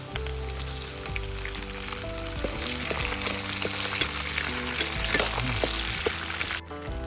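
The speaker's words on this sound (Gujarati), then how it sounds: "હવે આપણે મીઠો લીમડો નાખી દેવાનો છે." Curry leaves crackle and sizzle in hot oil, tempering for Gujarati khaman dhokla made with sugar and water. The sizzle stays loud and steady throughout over a faint tonal background, with no talk.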